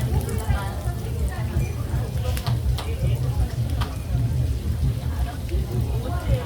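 Pork intestines fry in hot oil with a continuous bubbling sizzle and some stirring, heard under someone talking at an open-air market stall.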